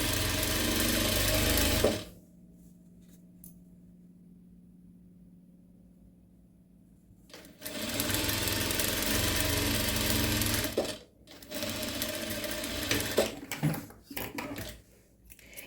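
A sewing machine stitches a dish towel in close, loud bursts of rapid mechanical whirring, stopping for several seconds of near quiet before running again in uneven spurts.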